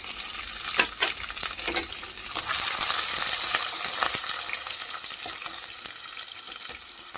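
Chopped onion and dried red chillies frying in hot oil with tempering seeds, a bright continuous crackle and hiss with occasional louder pops and stirring scrapes throughout.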